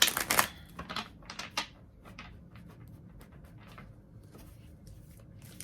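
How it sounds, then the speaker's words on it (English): Regular-size tarot cards are shuffled close up: quick riffling, slapping bursts at the start that settle into softer, sparse card rustles and taps. "These ones are much easier to shuffle."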